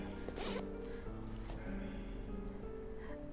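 A bag zipper on a designer work bag slides open in several short, close pulls, with soft fabric rustling in between and no speech.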